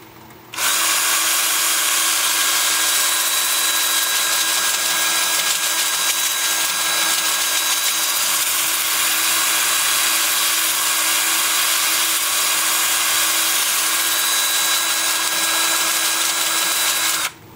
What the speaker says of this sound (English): I am going to be using my 2-inch disc starting at 80 grit and working up through 400.